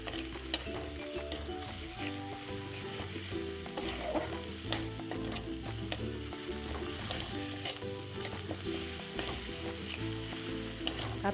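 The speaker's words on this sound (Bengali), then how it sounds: "দিয়ে একটু ভাজা ভাজা করে নিচ্ছি।" Split green chilies and ginger paste fry in hot oil in a pan while cooking Bengali doi katla, a close, steady sizzle with crackling spatter and occasional stirring scrapes throughout.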